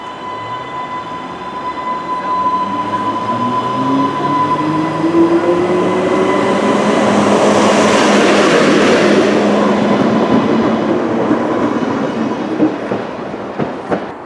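A Merseyrail PEP electric train pulls into Bidston station, its rumble and wheel noise building steadily to a loud, close peak mid-passage before easing off, with faint clicks over the rails and no talking.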